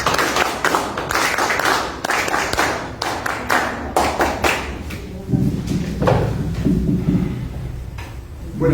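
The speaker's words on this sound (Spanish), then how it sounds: "Les pido fuertes palmas para la primera intervención de Augusto." Audience applause for a candidate at a political nomination event, with loud clapping that starts at once, grows sparse and uneven, then swells again in bursts, and a few voices mixed in.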